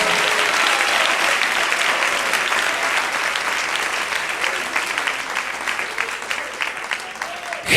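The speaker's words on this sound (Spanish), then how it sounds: "Dale un aplauso al Rey en esta preciosa mañana" A church congregation applauds loudly and steadily during a Spanish-language morning worship service, dense clapping filling the room from start to finish, with voices mixed faintly under the applause.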